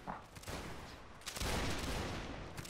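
Musket volleys in a Napoleonic-era multiplayer line battle game, a dense crackle of many shots from several directions, loud and continuous for a few seconds.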